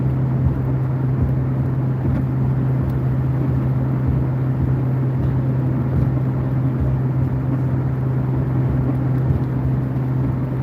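A 1981 Ford Capri cruises steadily, giving a constant low engine drone and road rumble heard from inside the car with no talking.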